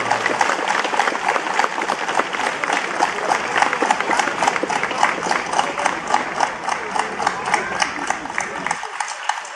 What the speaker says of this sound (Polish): A my oczywiście, tak jest, uruchamiamy nasze dłonie. I wielkie brak brawa